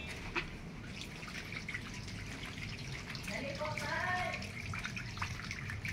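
Water drains from a Samsung automatic washing machine under repair, a low steady gurgling flow with splashing and dripping as someone talks over it.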